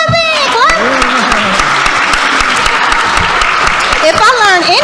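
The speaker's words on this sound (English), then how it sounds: "Clap for me! Clap!" A conference panel audience breaks into sustained, dense clapping that fills the whole stretch, with a few voices calling out and cheering over it near the start and end.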